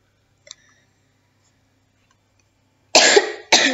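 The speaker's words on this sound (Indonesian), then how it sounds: "maaf ini saya lagi agak batuk" A person coughs twice close to the microphone, two loud, abrupt bursts in quick succession after near silence broken only by a faint click.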